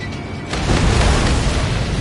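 A loud, deep explosion rumbles as missiles are destroyed by cannon fire in the flight combat game Ace Combat 7, a sustained roaring boom that swells after a brief lead-in and fills the moment alone.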